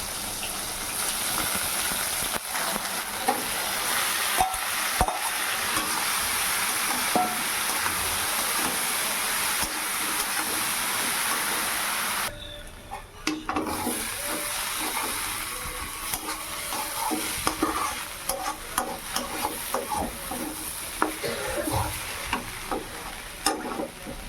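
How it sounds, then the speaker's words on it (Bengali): Shredded cabbage with frozen peas, tomato and panch phoron fries slowly in a pan, making a continuous sizzle with scraping and clinking as it is stirred; the sizzle drops out briefly partway through before resuming. "সব দিয়ে তারপরে বাঁধাকপিটা দিয়ে দেবো, আস্তে আস্তে ভেজে নেব"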